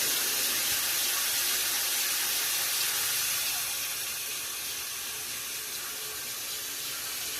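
Hot water gushes from a tap in a steady, loud hiss, easing slightly halfway through but continuing alone without pause.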